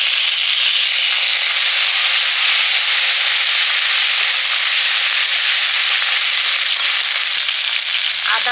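Onion-garlic paste and turmeric fry in hot oil, a loud, dense, continuous sizzle with crackling spits throughout and a faint knock near the end, with no voices.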